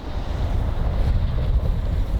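Strong gusts buffet the microphone on an outdoor riverbank, a steady low roar of wind over rushing water with no pauses and no voices.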